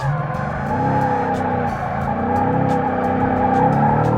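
A Ford Mustang drifting without the handbrake, its engine droning steadily while the tires skid and squeal continuously, loud and close throughout.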